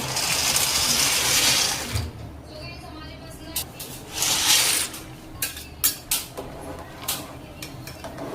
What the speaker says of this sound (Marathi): पास्ता ऍड करते.